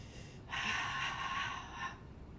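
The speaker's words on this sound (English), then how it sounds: "Breathing in, and on your exhale, you can make a little ha sound." A forceful breathy 'ha' exhale during a mat Pilates exercise, one long, close, airy breath lasting over a second against quiet background.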